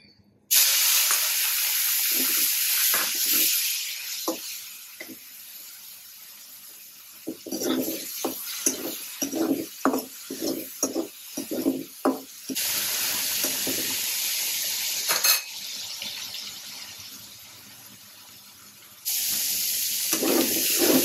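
Loud, steady hiss of shrimp frying in hot oil, broken by a stretch of sharp crackles and pops, then the hiss swells back.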